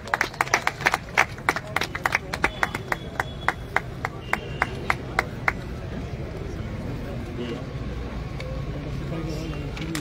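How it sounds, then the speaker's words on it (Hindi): Scattered claps build into fast, crisp applause from an audience at an indoor political party assembly, greeting guests for about six seconds. The applause then fades into murmuring crowd noise and room hum. "हम सभी तालियों के माध्यम से स्वागत करते हैं"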